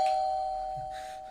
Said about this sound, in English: go ahead and ring that doorbell?